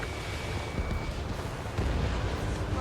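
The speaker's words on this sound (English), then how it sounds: "Missile launched." Missile launch and blast in Ace Combat 7: Skies Unknown during a ground-attack mission: a dense, roaring wash of jet and explosion noise with booming low rumble throughout, swelling louder toward the end.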